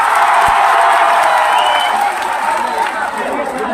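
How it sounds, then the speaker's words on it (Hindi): Large seated crowd at an outdoor political conference in a big public ground in Patna clapping and cheering loudly, a dense continuous roar of applause that tapers slightly toward the end. "अपने लिए जोरदार ताली बजाइए बैठकर आप"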